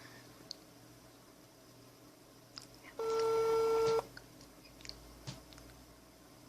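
A telephone ringback tone sounds as a single steady electronic beep, about one second long and clearly louder than the quiet background. Faint clicks and room noise come before and after it.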